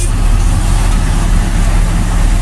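A trailer dump truck engine rumbling at an asphalt paving site, a deep continuous drone with heavy low-end and broadband road noise, loud and close.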